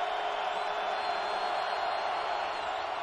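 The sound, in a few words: football stadium crowd making noise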